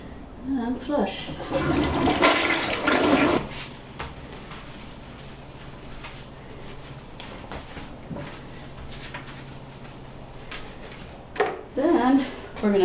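A toilet flushes in a hotel suite bathroom during a deep clean, with a loud rushing surge early on, a quieter draining spell, and another burst near the end. A person talks at times.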